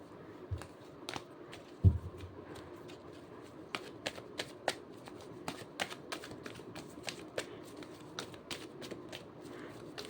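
Tarot cards being shuffled by hand: soft, close riffles and a steady run of light papery clicks and taps, with one heavier knock near the start.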